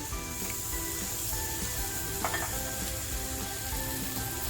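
Chillies fry in a pan with a steady, close sizzle that runs the whole time, and faint stirring scrapes sound under it.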